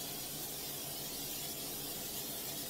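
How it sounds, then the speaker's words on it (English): Olive oil spray hisses steadily from a can onto a pizza pan, a soft continuous spray that holds without a break. "And we're going to spray the pan"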